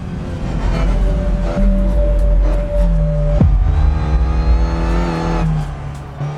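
Renault Clio race car engine in the racing game Assetto Corsa, revving loud and continuous with rising and falling pitch through gear changes, no talking.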